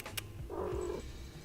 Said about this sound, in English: Did you hear that? The purr.